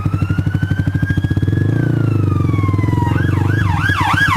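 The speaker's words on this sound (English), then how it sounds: "Oh no, it's ambulance." An ambulance siren sounds close and loud as it passes traffic, a steady wail that shifts into a rapid warbling yelp, with a motorbike engine faintly underneath.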